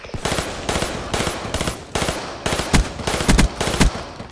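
Rapid bursts of M16 rifle fire in a multiplayer shooter game, several short loud volleys in quick rhythmic succession, close and punchy, with no talk over them.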